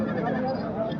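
A Sahiwal cross goat bleats at a livestock market in Mansehra, a short nasal bleat mixed with someone talking nearby.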